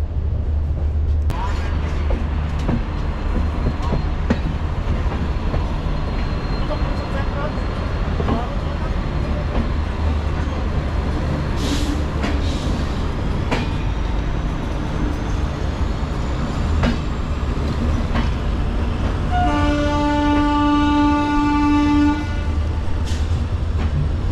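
Steady low rumble of a passenger train running on rails across the whole stretch, with clatter and a sustained tonal whine or horn-like tone near the end; people talk faintly over it.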